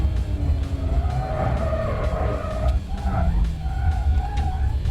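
2018 Porsche 911 GT3 Touring sliding tail out on a hot lap on a very cold day, engine droning loudly and continuously with a rising whine and tire noise throughout.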